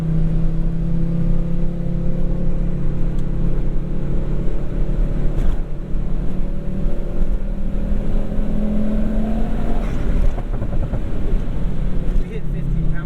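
Volvo 850R with a swapped C70 T5 turbo engine accelerating hard under boost, a loud sustained engine drone rising in pitch with a shift near the end, heard from inside the cabin.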